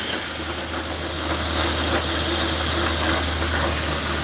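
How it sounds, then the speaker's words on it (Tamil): A stone grinding mill grinds chillies for masala powder, giving a loud, steady, droning mechanical roar with a hissing, broadband rumble that continues unbroken throughout. "இதுதான் கல்லறவை இயந்திரங்க"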